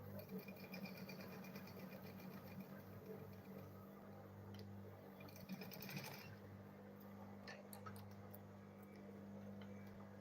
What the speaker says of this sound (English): Then I'll sew this side also.